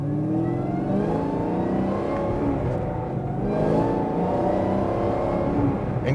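A Yenko Camaro pulls away hard in first gear, its engine note climbing in a loud, steady, unbroken roar of acceleration that lasts the whole stretch, heard close by with no talking over it.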